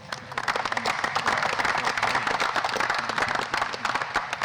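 A crowd at a Mayor's Night Out community event applauds to welcome the 5th District councilman, with dense, sustained clapping that swells quickly and holds loud throughout.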